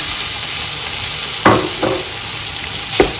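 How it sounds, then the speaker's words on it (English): Egg frying in a hot pan with cooked sweet and sour chicken, a loud continuous sizzle with a few sharp stirring scrapes, no voices over it. "I'm going to add the egg."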